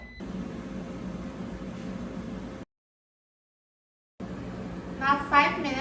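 An air fryer with its basket of frozen shredded hash browns runs with a steady whirring fan hum that cuts out for about a second and a half, then starts again, with a brief voice-like sound near the end.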